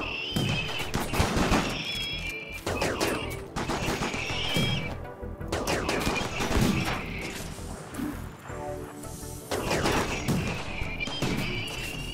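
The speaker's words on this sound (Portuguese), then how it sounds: "torreta com bala de urânio" Turret firing uranium rounds in RimWorld, with bursts of rapid gunfire in repeated volleys separated by short pauses, sharp impacts mixed with metallic clatter, loud and close.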